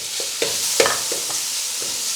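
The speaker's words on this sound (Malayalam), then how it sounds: "നമുക്കിതിൻ്റെ അകത്തേക്ക് അരപ്പിട്ട് കൊടുക്കാം." Ground coconut paste goes into a pan of frying thazhuthama leaves for thoran, giving a steady sizzle with a few soft scraping stirs throughout.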